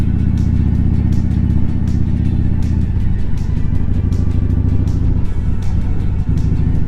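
A Harley-Davidson motorcycle rides through winter traffic on icy roads with a loud, steady low engine rumble, a shift in pitch around the three-second mark, and wind noise throughout.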